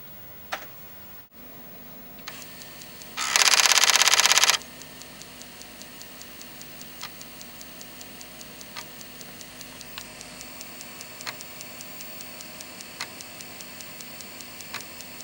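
A Commodore 1541 floppy drive formats a disk. A brief loud buzzing burst of head movement is followed by regular soft clicks or ticks at steady intervals, faint and close, with no talk.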